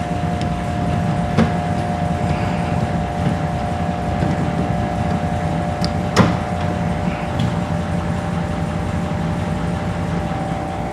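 A 1970s-era sand rail engine runs in first gear, a loud, steady, close mechanical drone with a constant hum and a couple of brief knocks, and no talk.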